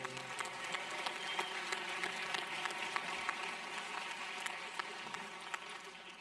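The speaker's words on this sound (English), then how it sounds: "give a round of applause to our quartet this evening for providing our music" A commencement audience applauds the music quartet, a dense, steady wash of many hands clapping from a distance, faint but continuous throughout.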